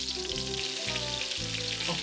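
Flatbread frying in a very hot cast iron frying pan, a steady close hiss and crackle of sizzling with a low background hum and no talking.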